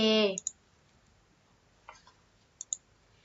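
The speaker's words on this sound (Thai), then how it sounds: "จากนั้นให้คลิกโอเค" A computer mouse clicking: a short burst of voice at the start is followed by a few faint, sharp clicks spaced apart in a quiet room.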